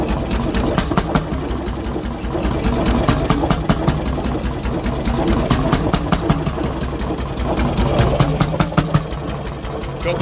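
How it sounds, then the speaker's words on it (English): A McDonald type YD two-stroke engine runs close and loud, firing in rapid even beats that speed up as it revs, with a faint voice underneath. "Let's give her a bit of a rev up."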